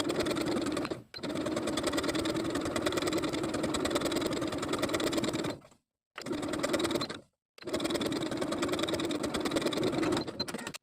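A sewing machine runs a narrow zigzag stitch around the neckline of a pull-on V-neck knit top, with steady fast rhythmic whirring in long runs broken by two brief pauses, close and alone.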